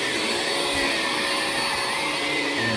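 A Hoover One portable battery vacuum running in carpet mode gives a steady, loud, close motor whine with a broad airy rush and no talk.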